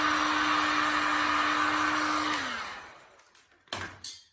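A heat gun blows steadily and close for about two and a half seconds while heating glued-on furniture moulding, then its whine winds down and cuts off, followed by a few faint knocks.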